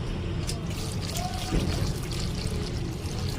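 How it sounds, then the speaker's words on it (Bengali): A little water poured over sliced round eggplant rounds in a bowl, a steady close trickle and splash running throughout under a continuous broadband wash. "একটু জল, সামান্য পরিমাণ লবণ দিয়ে এটাকে ভালো করে ভিজিয়ে রেখে দেবো"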